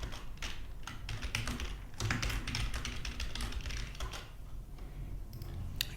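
Rapid, steady typing on a computer keyboard, close and fairly loud, with dense clusters of key clicks and brief pauses, heard over a constant low background hum with no talk.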